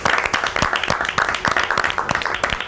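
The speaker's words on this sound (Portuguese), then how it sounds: "palmas para ele!" Rhythmic, punchy clapping from a TV studio audience, with sharp individual claps in a quick, fairly even beat, loud and close throughout the short burst.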